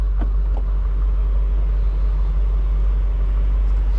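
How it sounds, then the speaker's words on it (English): A 2021 BMW M8 Gran Coupe with a carbon roof and quad outlet exhaust gives off a steady, deep engine rumble that holds constant throughout, with no talking. "You have quad outlet exhaust"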